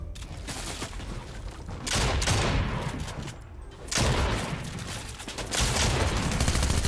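Gunfire from a Fortnite match, Chapter 3 Season 1, comes as loud rapid bursts and repeated shots in several waves, with sharp rattling volleys separated by brief quieter gaps.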